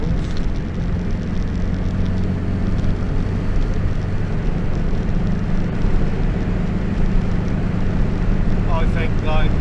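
Morris Minor car driving at speed, a steady loud engine drone with road and wind noise and rattles running throughout, with voices talking over it.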